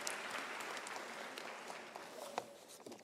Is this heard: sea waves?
no